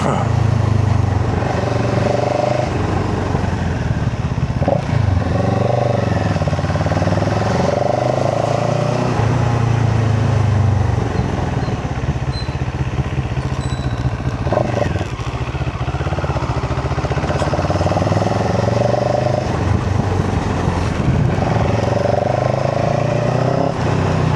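Motorcycles on the Heart of Slovakia rally, heard from one riding bike: a steady, loud engine drone with rising and falling revs and constant wind rush throughout.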